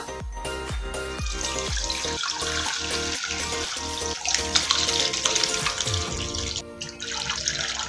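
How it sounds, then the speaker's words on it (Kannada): Homemade rose wine poured through a cloth filter, a continuous splashing, trickling liquid sound with a series of regular knocks early on, close and fairly loud. "ವೈನ್ ಅನ್ನು ಫಿಲ್ಟರ್ ಮಾಡ್ಕೊಳ್ಳಿ"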